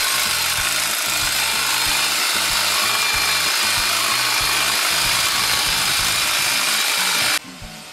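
Power tool cutting through bush branches during yard pruning, a steady loud rasping drone with rhythmic low pulses that runs continuously and cuts off abruptly near the end.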